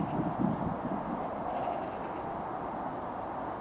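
A train rumbles past at a steady, moderate volume, a continuous broad roar with a faint metallic whine in the middle, heard alone without talk.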